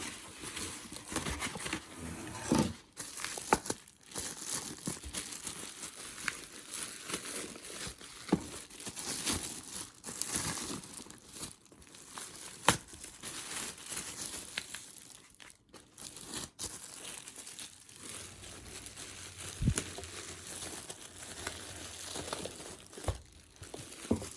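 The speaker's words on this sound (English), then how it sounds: "Let's unwrap it, see what we have here." Plastic packaging crinkles and tears as a Can-Am Spyder F3 driver backrest is unwrapped, a steady close run of rustling, crumpling and ripping with brief pauses.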